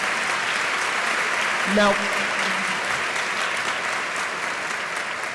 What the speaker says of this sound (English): Could we have a round of applause for our many co-sponsors?